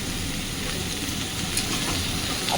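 Plain sliced potatoes frying in a pan of oil in a home kitchen, a steady continuous sizzle and hiss with faint crackles, close and fairly loud, no voices.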